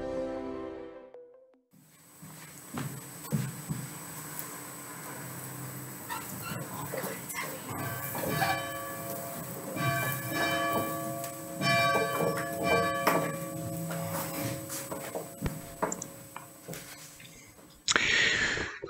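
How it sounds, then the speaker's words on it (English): A church bell at a United Methodist church rings repeatedly in a steady rhythm, resonant and sustained, while a dog barks and whimpers intermittently in the background. "that was Claire, who was ringing the bell for us this morning."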